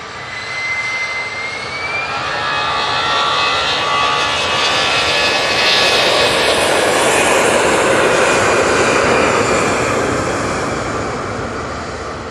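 An EasyJet airliner bound for Bilbao spools up its jet engines at Manchester Airport, a loud, sustained roar with a rising whine that swells and holds steadily throughout, with no voices over it.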